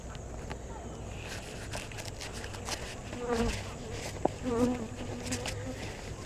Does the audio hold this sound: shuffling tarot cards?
no